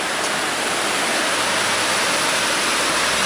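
Muddy, cloudy trout stream running beside an old railroad bed, a loud steady broadband rush of flowing water, close and unbroken with no voices.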